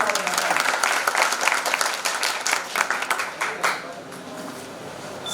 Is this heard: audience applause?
yes